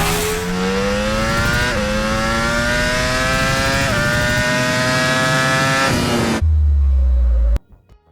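A V engine with uneven firing intervals revs up in long, rising grunting pulls, loud and close, before cutting off abruptly into a brief low rumble and near silence.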